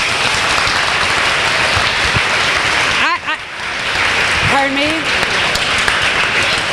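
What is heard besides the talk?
applause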